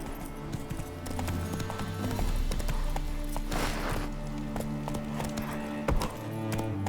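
Roach the horse gallops in The Witcher 3, with rapid, rhythmic hoofbeats drumming steadily and close over an ambient game backdrop.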